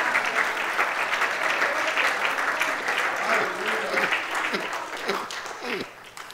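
A church congregation gives a strong round of applause to God, dense and loud for several seconds before thinning out, with voices mixed in near the end.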